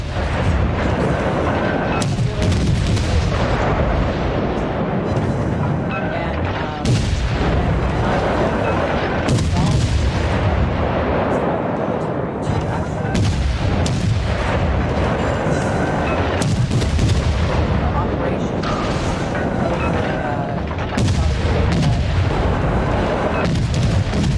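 In a naval battle video game, gunfire and explosions pound almost nonstop: loud, dense booms and blasts overlapping and repeating in bursts.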